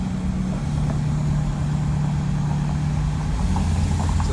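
A 2020 Ford Super Duty Tremor with a Powerstroke diesel and deleted exhaust rumbles close by, a deep, steady low drone with a slight shift in pitch as the throttle is worked.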